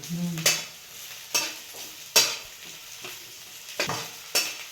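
Onion and garlic stirred in a hot pan for a sprouted moth bean curry, a spatula scraping in about six sharp, evenly spaced strokes over a steady low sizzle.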